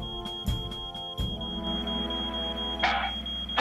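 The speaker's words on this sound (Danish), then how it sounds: "Falsk alarm uden tvivl." A fire alarm in a children's animated cartoon about a firefighter sounds as a steady high electronic tone, with a few thuds and a short burst of noise underneath.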